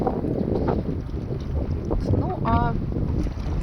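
Strong wind buffets the microphone outdoors on the open tundra, roaring and gusting steadily while a person speaks briefly over it.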